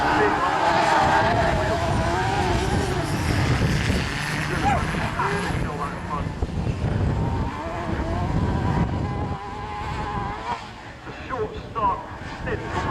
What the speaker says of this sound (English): That is a very revvy engine.